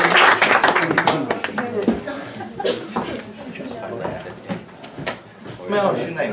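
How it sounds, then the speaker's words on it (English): An audience at a live stage show claps and laughs, with the applause starting loud and then thinning into scattered claps and chuckles while people talk over it. "Give him a round of applause."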